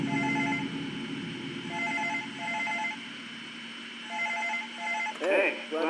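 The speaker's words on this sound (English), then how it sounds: "Is that a phone call?" Repeated electronic telephone ringing from a horror video game, several bursts of ring tones over a steady background hum, with a later burst of louder, harsher sound.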